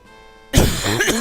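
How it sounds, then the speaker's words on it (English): A sick person coughs once, loud and close, a harsh throaty burst that breaks over quiet electronic game music. "I can't help. I'm just coughing up a storm, y'all."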